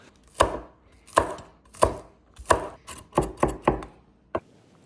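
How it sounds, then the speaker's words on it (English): A knife chops scallion finely for afternoon tea, white and green parts together, in a run of about nine crisp close strikes on a cutting board, evenly spaced at first and then quickening. "I'm chopping the scallion fairly finely"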